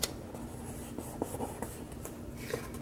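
Pen scratching across paper in a personal-size planner with fabric-craft inserts, a soft continuous writing rasp with small stroke accents, close and alone.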